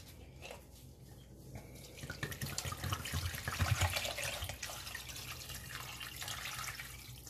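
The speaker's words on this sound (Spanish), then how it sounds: "Y le vamos a poner litro y medio de agua." Water pours steadily into a cooking pot, about a litre and a half for a Canarian fish broth, a continuous splashing rush that swells in the middle and then settles, heard close up with no talking.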